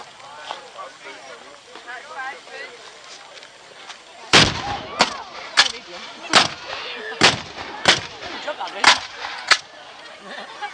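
Living history reenactors fire muskets in a ragged volley, about nine sharp outdoor cracks in close succession over a few seconds, following a stretch of crowd chatter and a voice speaking.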